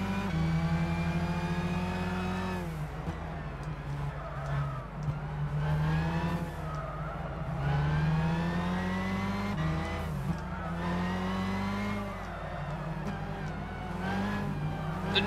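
Race car engines roar and rev on the Nordschleife in Gran Turismo 6, a loud, continuous multi-car drone with rising and falling pitch as gears change, close and sustained throughout.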